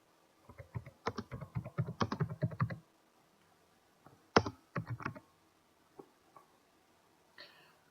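Keystrokes clatter on a computer keyboard while filling in a retailer account form, a quick burst of typing followed by a shorter flurry and a few isolated taps, close and fairly quiet.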